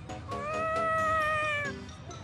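A cat meowing in the video game Tales of Xillia 2: one drawn-out, wavering meow, clear and close, between quieter game sounds.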